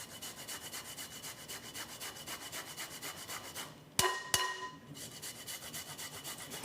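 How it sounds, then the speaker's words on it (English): Fresh ginger is rubbed against a grater for a lemon spice layer cake, making a steady rhythmic rasping close by, briefly broken by two sharp clicks of the grater before the scraping resumes. "So I'm gonna grate in about a tablespoon of fresh ginger."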